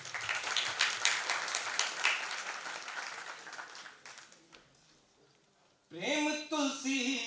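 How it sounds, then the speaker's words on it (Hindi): An audience at a devotional music event claps loudly for several seconds, a dense rhythmic burst that gradually fades into quiet, followed by a voice speaking. "जोरदार तालियां हो जाती है।"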